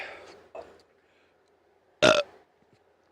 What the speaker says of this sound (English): that was a shit burp.